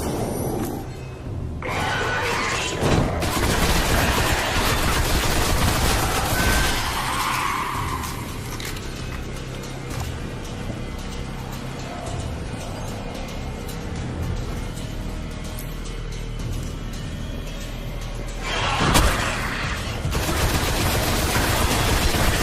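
Rapid rifle fire and explosive bursts in a Destiny mission on Mars, loud and sustained across a dense sci-fi battle mix, with a brief lull midway before another heavy volley.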